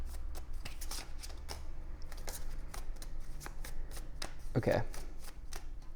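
Tarot cards being shuffled during a reading, a run of quick papery flicks and riffles close by, with a short spoken word near the end.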